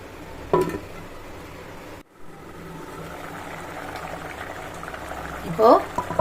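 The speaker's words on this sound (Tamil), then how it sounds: "ஒரு கொதி கொதிக்கட்டும்." Brinjal gravy simmering with tamarind water in a pot, a low steady bubbling hiss running throughout with a brief dropout near the start and a couple of louder clinks or stirs.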